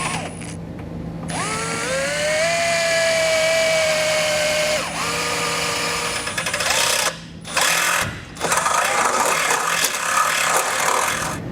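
A power drill bores out a hole for a Roadmaster crossbar-style base plate bracket on a 2019 Jeep, a loud, close, sustained whine rising in pitch, dipping briefly, then biting in again with grinding texture.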